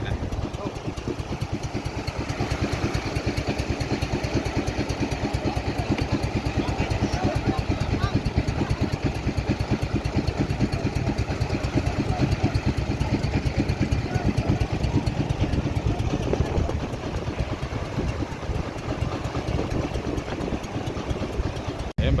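A boat engine chugs steadily with a rapid, even throb, running continuously at close range while voices talk over it at times.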